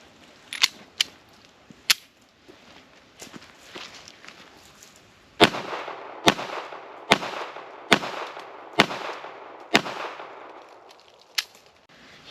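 Sharp, loud pistol shots from a Ruger LCP fired from roughly 10 feet, about a dozen reports at uneven intervals, with a quicker, steadier string of shots in the second half.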